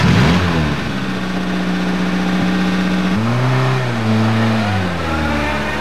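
A car engine turns over and revs, then settles into a steady drone as the vehicle pulls away, shifting gears with rising and falling pitch, loud and close throughout.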